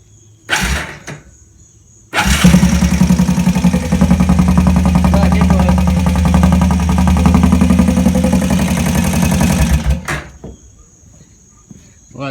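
A small gas engine with its exhaust baffle removed, running as an open straight pipe, starts and idles steadily for about eight seconds with a dense buzzing drone before cutting off. It is close and loud, and the idle holds an even rhythm.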